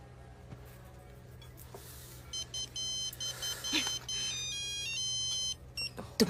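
A phone rings with a repeating electronic beeping melody in short bursts over a steady low hum, fairly close.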